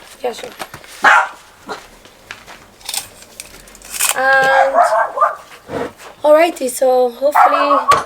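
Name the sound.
dog barking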